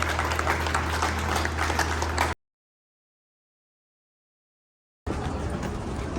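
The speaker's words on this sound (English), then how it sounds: "give yourself a round of applause" Group applause, a thick, continuous patter of many hands over a low hum, breaks off into total silence for a few seconds and then resumes just as steadily.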